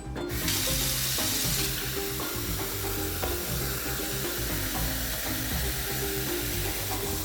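Tap water runs steadily into a sink while dried pinto beans are rinsed and cleaned, a continuous loud rushing wash with some clatter and stirring, with no voices.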